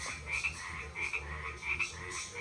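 Frogs and toads croaking at night near a rural house, repeated rhythmic calls at a fairly quiet level, several croaks pulsing in a steady chorus with no speech.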